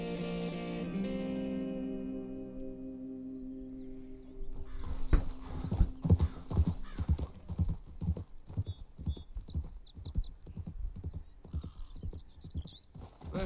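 Horse hooves clip-clopping in the video game Red Dead Redemption 2, a steady run of sharp close hoofbeats that begins a few seconds in after a droning musical tone, with faint rustling behind.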